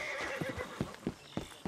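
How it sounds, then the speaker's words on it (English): A horse in the Red Dead Redemption 2 video game gives a short, close neigh followed by snorting breaths and a few hoof clops, heard alone without talk. "It's the horse."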